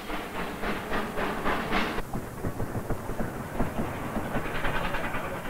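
A Denver and Rio Grande railroad train rolls past with a heavy, continuous rumble and rhythmic clattering of wheels over rail joints, loud and near, with no voices.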